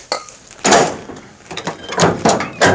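A Chevy tailgate is worked open and shut, giving several loud metallic clunks and rattles spaced across a few seconds, close by with no talk.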